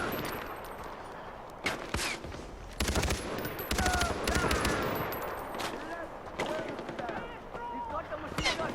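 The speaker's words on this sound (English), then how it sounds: "He's got the machine gun. Take cover." Machine gun fire in the video game Far Cry 4, loud rattling bursts arriving in several separate volleys with brief gaps between them, over a continuous background of game noise.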